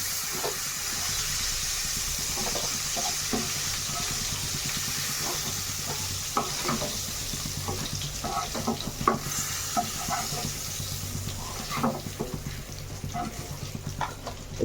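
Whole pointed gourds fry in hot oil in a pan, a continuous crackling sizzle with frequent scraping stirs and small pops throughout, close and steady with no speech.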